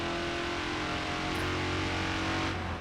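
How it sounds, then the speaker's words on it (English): In a racing video game at Yas Marina, a car engine revs loudly and drops through gears, a continuous close drone rising in pitch, no talking. "No, I can just rev it and downshift."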